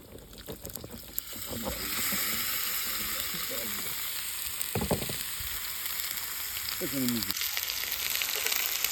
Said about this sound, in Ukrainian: І прожарюємо минути три